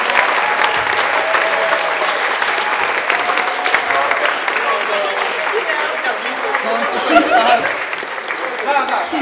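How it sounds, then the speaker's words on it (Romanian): An audience at a local Robochallenge robotics competition applauds the winners in a sustained, dense ovation, with laughter and chatter mixed through the clapping. "Este să-i aplaudați pe toți câștigătorii pentru prezență."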